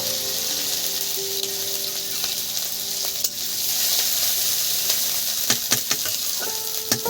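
Cumin seeds, chopped ginger and green chili frying in hot oil, giving a loud, steady sizzle close up throughout, with a few light clinks of a utensil near the end.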